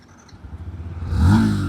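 A Yamaha 150cc sports motorcycle engine catches and revs up sharply near the end, a rising roar after a low idle rumble.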